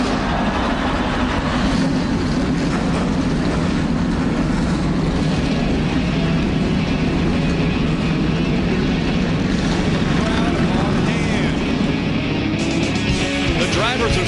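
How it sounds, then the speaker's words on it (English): Thirty-six NASCAR Truck Series trucks at Daytona's 2.5-mile superspeedway fire their engines together, a dense, steady roar filling the track continuously under a loud crowd and PA ambience. "Drivers, start your engines."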